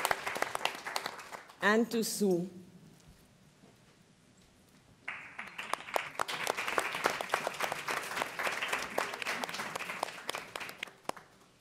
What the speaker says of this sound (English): Let's give her a big warm applause.